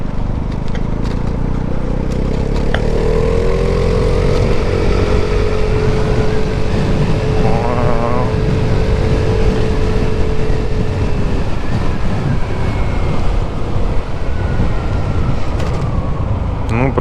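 A Vespa 300 GTS scooter rides past other vehicles on a road, with a loud, continuous engine and wind roar and the drone of passing traffic throughout, while a rider talks over it.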